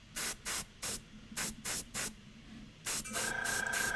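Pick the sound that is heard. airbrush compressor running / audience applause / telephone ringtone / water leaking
airbrush compressor running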